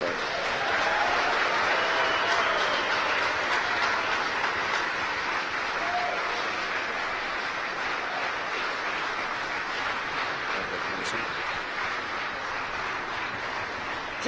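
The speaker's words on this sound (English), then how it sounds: "You hear the applause in the background here in Hawthorne." Applause and cheering fill the SpaceX control room in Hawthorne after Falcon 9 stage separation, a steady, moderately distant clapping crowd sustained throughout.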